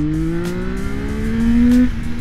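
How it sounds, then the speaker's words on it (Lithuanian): A CFMOTO 675NK motorcycle accelerates at full throttle, its engine note climbing steadily in pitch as revs build, loud and close, with a strong continuous drone and no voices. "pasižiūrėsime, kaip šis motociklas akseleruoja. 22, gazas dugnas."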